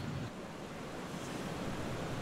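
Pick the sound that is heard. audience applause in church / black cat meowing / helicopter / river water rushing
river water rushing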